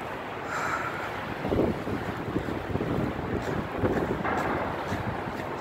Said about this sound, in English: Snow's blowing all over the place.